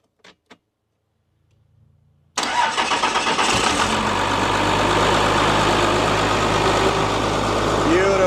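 A 12-valve diesel engine in an old junk car cranks briefly, then catches and settles into a loud, steady, clattering idle close by, with faint voices at the start.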